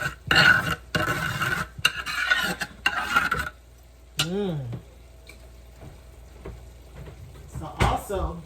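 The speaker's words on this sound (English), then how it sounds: "Give it a nice little stir." Taco filling with a dab of lemon gets stirred in a hot pan: loud bursts of sizzling and scraping strokes come first, then quieter sizzle while a person talks.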